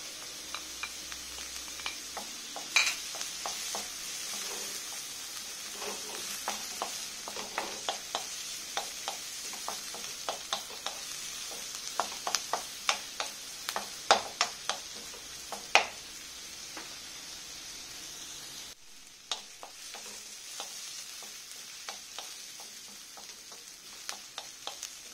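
Ginger stir-frying in hot oil for chicken with oyster sauce, a continuous crackling sizzle with scattered sharp pops and spatula scrapes, close and steady, briefly dropping quieter near the end.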